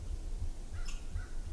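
A crow gives a short, faint caw in the distance over low rumbling wind noise.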